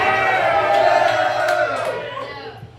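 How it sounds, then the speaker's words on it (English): A comedy club audience cheers and whoops loudly at a stand-up show, a dense crowd roar that slowly fades away. "That's the biggest cheer I've ever got at one of my shows."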